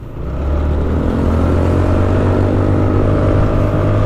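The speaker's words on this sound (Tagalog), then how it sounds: "medyo hirap na yung motor dito" A motorcycle engine strains as it climbs a steep hill road near Pantabangan, holding a loud, steady low drone with a constant rumble throughout and no speech.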